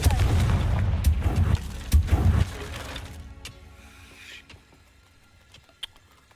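A Confringo fire spell bursts in Hogwarts Legacy with heavy booming blasts early on, then sharp crackling impacts that thin out into scattered fainter pops and a quieter tail.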